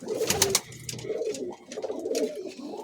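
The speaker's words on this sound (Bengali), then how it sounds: "এগুলো অনেক সুন্দর পায়রা" Caged Teddy and Rampuri pigeons in West Bengal coo in repeated, overlapping throaty bursts, close and fairly clear, with faint background noise between calls.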